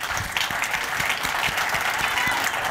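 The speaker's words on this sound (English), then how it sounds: "Please, warm round of applause for Abby Ballou." Warm applause from a conference audience at a technology challenge event, a continuous even wash of many hands clapping without speech.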